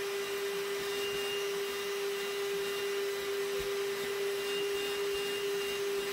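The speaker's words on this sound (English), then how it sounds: "I'm going to put my hand over the filter like a glove." A Vacmaster VOM205P wet dry vacuum runs steadily while its filter is cleaned, a loud constant motor whine with a strong tonal hum and no talk.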